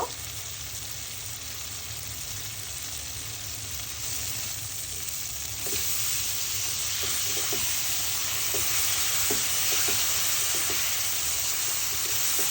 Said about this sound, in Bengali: এখন আমি মাংস দিয়ে দিব।